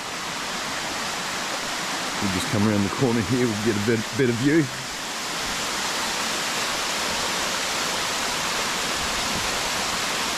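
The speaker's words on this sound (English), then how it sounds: "So it's a pretty cool waterfall up here." A waterfall in winter at peak flow roars loudly and constantly, a thick rushing wash of water; someone talks briefly over it before the roar continues alone. New Zealand.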